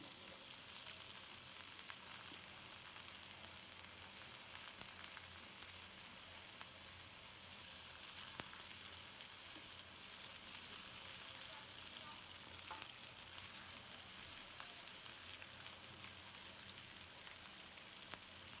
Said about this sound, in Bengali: পেঁয়াজটা আমার ভাজা হয়ে যাচ্ছে,